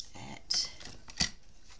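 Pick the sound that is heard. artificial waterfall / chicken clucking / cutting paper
cutting paper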